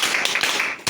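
Applause from a classroom of students, a dense burst of many hands clapping together, steady and loud for nearly a second with a brief fresh flurry at the end.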